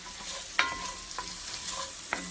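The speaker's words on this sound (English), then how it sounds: "I'm going to render these onions and this garlic down a little bit" Onions and garlic softening in a pot for chili, a steady low sizzle running throughout with a few sharp stirring clinks and scrapes of a utensil against the pot, close and fairly quiet, no talk.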